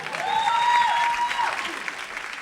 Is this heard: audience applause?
yes